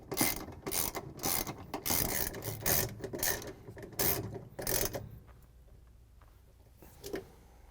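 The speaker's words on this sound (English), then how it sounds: "use the 3/8" socket with the ratchet and the extension to put in the bolts" A 3/8 inch socket ratchet with an extension clicks rapidly in bursts while driving bolts into a GE washing machine during a transmission replacement, close up, then fades to a quieter pause with one last short burst.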